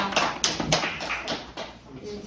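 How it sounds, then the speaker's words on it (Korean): A small group of people claps for newly admitted students at an entrance ceremony, with scattered, uneven hand claps close by and talk under them. "제2과 9기로 입학하신 입학생들께 다시 한번 박수 부탁드립니다."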